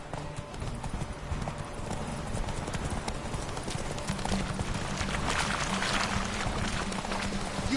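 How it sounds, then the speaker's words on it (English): A horse gallops across The Witcher 3 game world, its hoofbeats clip-clopping in a fast, continuous rhythm at close range. "Run, Roach"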